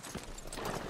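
Horse hooves clip-clop in the Western video game Red Dead Redemption 2, a rapid, dense run of soft thuds over steady ambient noise within a brief burst.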